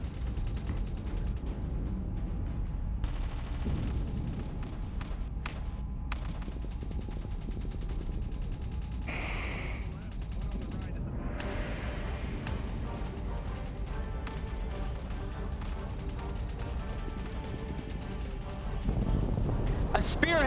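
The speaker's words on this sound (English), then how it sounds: "Heavy fire on the left flank." Heavy gunfire in the war game Mayday H.O.R.U.S., dense bursts of automatic fire and distant explosions rolling on continuously, with a sharp blast partway through and a louder swell near the end, radio voices talking over parts of it.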